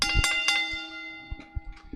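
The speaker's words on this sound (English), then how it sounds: "Ring that bell." A bell rings out in a series of bright, resonant strikes, two quick hits followed by a few softer, sparser ones as the metallic tone decays between them.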